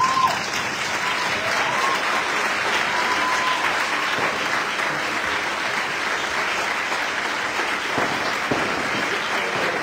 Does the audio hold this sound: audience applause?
yes